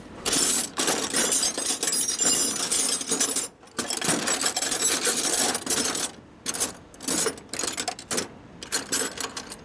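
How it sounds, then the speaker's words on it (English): Hands rummage through a tool bucket of Allen wrenches during a motorcycle rebuild, producing close, busy metallic clinks and jangles in irregular bursts, with a few short pauses. "Let's get our tool bucket down here with everything we possibly need in here, right?"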